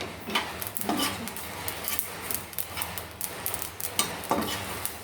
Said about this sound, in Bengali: তাই আমি রসুন আর শুকনো লঙ্কা কাঁচা লঙ্কা ভেজে নিচ্ছি